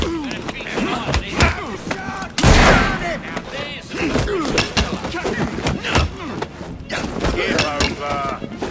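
A single loud gunshot in a Victorian London setting in Assassin's Creed, one sharp blast partway through, surrounded by busy crowd commotion and people talking and shouting.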